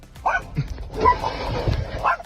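A dog barks and whimpers in short, yelping bursts, close and fairly loud, with other voices and commotion mixed in.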